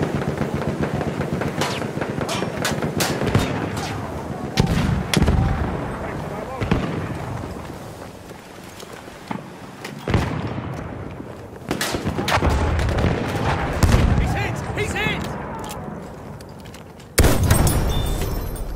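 Rapid video-game gunfire, sustained bursts and loud explosive cracks in a chaotic battle, with brief pauses between volleys and voices shouting over the shooting.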